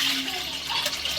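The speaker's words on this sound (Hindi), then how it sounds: "कटोरा इसमें हम पानी डालेंगे" Water from a bowl is poured into a cooking pot to make sugar syrup, a brief steady splashing gush, close and fairly loud, lasting about a second.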